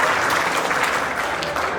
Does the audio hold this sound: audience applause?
yes